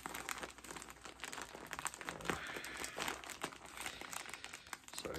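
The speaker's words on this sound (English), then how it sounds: "I don't like this packaging. Gotta rip it open somehow" Plastic clothing packaging is torn and ripped open with continuous crinkling and crackling, close but fairly quiet, with scattered sharper tearing bursts throughout.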